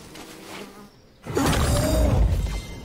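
Buzzing insect near trees in a video game: a faint hum first, a brief gap, then a loud close buzzing drone that holds steady to the end, with no speech.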